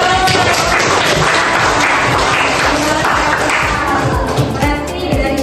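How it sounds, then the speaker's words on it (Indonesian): Applause from an audience at a talk about recognizing one's potential, a dense, steady wash of many hands clapping that holds loudly for the whole stretch. "Iya, tepuk tangan."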